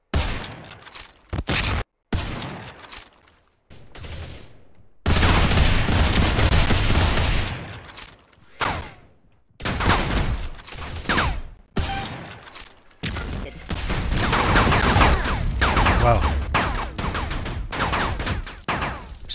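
Rapid SMG bursts from a sci-fi hero shooter played in VR, loud stuttering automatic fire in repeated bursts separated by short pauses, with a few isolated single shots between them.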